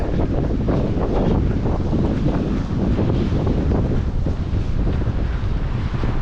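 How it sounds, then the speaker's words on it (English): Strong coastal wind buffets the microphone on a cliff-top run, a loud, steady roaring rush with no break. "you get really cold in this wind"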